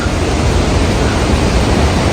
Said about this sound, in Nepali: लाङटाङ खोलाको आवाज सुनिरहेको छ